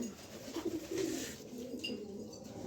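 A young pigeon, a new bird that has not yet bred, gives soft low coos in short repeated phrases close by, alone with no voices.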